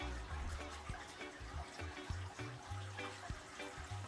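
Water trickles and splashes steadily as a potted umbrella tree is watered with a seaweed fertilizer solution, soft pouring and dribbling into soil with light thuds and no talking.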